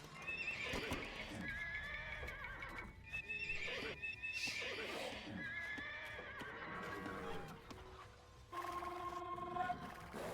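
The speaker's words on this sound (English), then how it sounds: "What grand beasts these horses are." Horses in the Age of Empires II: Definitive Edition game whinny and neigh repeatedly over clip-clopping hooves, a busy, steady stream of loud equine calls without any talk.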